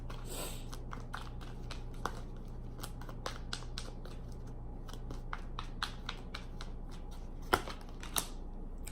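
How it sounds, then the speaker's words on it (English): Tarot cards get shuffled by hand close up, a steady patter of quick papery flicks and slides over a low hum, with one or two sharper knocks near the end. "so you guys can see me shuffle"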